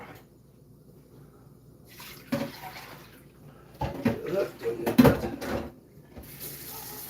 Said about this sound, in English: I just try to soak my bowls as I go.